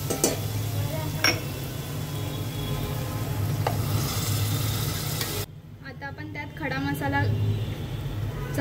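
Tomato puree going into fried masala for restaurant-style chicken handi. A steady sizzle and stirring scrapes in a pan, with a few clinks of a utensil, then a quieter stretch under a voice.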